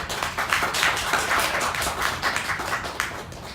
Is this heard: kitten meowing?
no